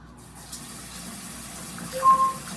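Water running steadily from a MOEN smart faucet into a sink, a soft continuous flow that swells slightly near the end, with no voices.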